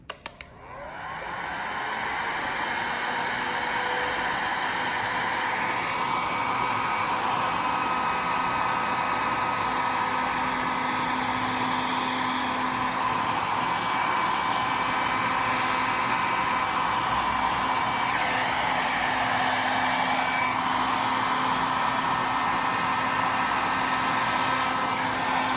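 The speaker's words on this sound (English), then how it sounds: "switch on the heat gun or the hair dryer" A heat gun or hair dryer runs steadily at close range for the whole stretch, a constant loud blowing whir with a faint motor whine, used to warm resin while lacing.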